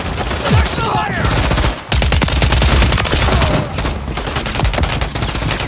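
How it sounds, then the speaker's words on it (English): Call of Duty gunfire crackles as rapid automatic bursts and overlapping shots, loud and nearly continuous, with a brief gap partway through before the firing resumes. "Taking effective fire."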